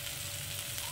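Boiled potatoes fry with spices in a pan for bitter gourd curry, giving a steady, soft close sizzle with no voices.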